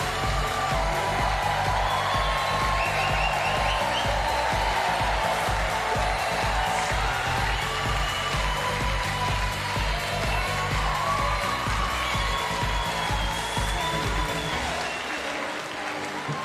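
A goalball arena crowd at the South Paris Arena cheers and applauds after Ukraine beats Iran in a Paris 2024 Paralympics men's quarterfinal, with steady, loud, sustained clapping and cheering that fades out at the very end.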